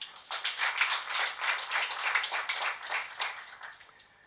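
Audience at an agribusiness youth competition clapping, a moderate round of applause with irregular, lightly rhythmic hand claps that fades toward the end, no speech.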